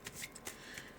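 Sixteen flower cards from a card game are shuffled by hand, a quick close riffle of several soft papery flutters and snaps in about a second, faint and alone.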